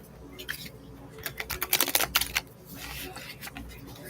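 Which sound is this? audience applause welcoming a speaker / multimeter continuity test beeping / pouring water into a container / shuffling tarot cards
shuffling tarot cards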